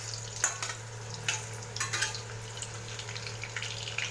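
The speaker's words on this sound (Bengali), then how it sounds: "লবণ আর হলুদ ছাড়াই আমি আলুটাকে ভেজে নিচ্ছি।" Potatoes frying in mustard oil without salt or turmeric, a steady soft sizzle with a few sharper stirring clinks and scrapes scattered through, close and fairly quiet.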